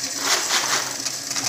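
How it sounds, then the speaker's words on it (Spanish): An EC398 coin counting machine running as it sorts coins, a continuous dense metallic clatter and rustle at steady loudness with no voices. "A medida que vaya organizando las monedas, podemos seguir cargándolas."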